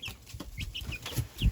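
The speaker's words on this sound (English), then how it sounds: "I think that one's the one that's been trying to crow today." A young rooster chick on a snowy farm makes a string of short, thin cheeping clucks and cracked attempts at crowing, close and fairly quiet, with a few rustles and no talk.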